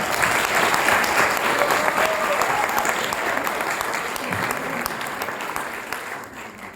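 Sustained, dense applause from the audience at the final of an eloquence contest in Joué-lès-Tours, loud and even throughout before easing slightly at the end.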